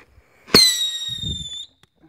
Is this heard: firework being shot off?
yes